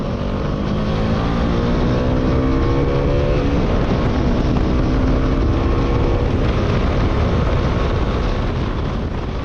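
A 2019 Bajaj Dominar 400 BS4 motorcycle ridden at high speed, its engine droning steadily and loudly, with rising harmonic tones as it accelerates and constant wind rush throughout; no talking.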